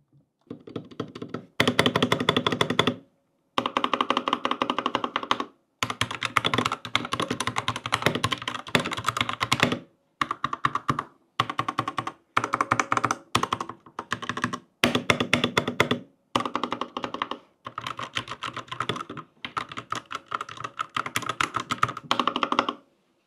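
Rapid clacky typing on a Royal Kludge RK61 mechanical keyboard in bursts separated by brief pauses, close and crisp with no voices.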